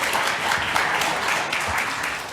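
A full-house congregation at a Unitarian Universalist Sunday worship service applauds, a dense, steady wash of many hands clapping throughout the short moment.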